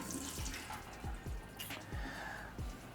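Liquid pressed out of a block of tofu in a Tofu Express drains into a sink, with a wet trickle and a few separate drips landing at intervals, close by.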